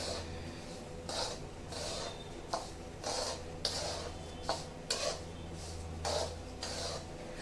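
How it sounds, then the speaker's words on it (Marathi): Semolina roasting in ghee in a pan and being stirred, soft rhythmic scraping strokes of a spoon against the pan, repeating about once a second, quiet and close. "रवा घालायचा आणि छान हलवून घ्यायचं, हे परतायचं."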